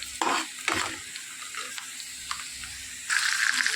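A tadka for dal sizzles in hot oil, with clanks and stirring scrapes up close and a loud burst of sizzling near the end.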